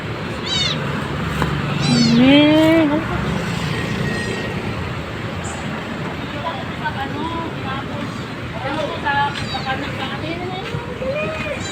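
A rescued kitten found in a garbage bin meows repeatedly, its cries rising and falling in pitch, close and fairly loud, amid outdoor background noise and nearby talking.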